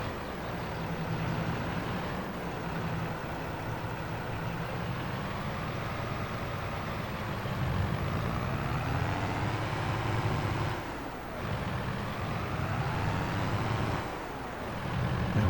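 A tractor in Farming Simulator 22 drives back and forth over silage in a bunker silo, its engine a steady, droning rumble that rises and falls slightly, near and continuous, with no talk.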